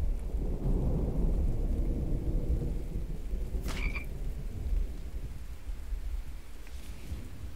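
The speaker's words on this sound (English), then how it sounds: "There's a frog." A frog croaking in the survival video game The Infected, a low repeated croak under steady rain and distant thunder rumble, with a brief chime in the middle.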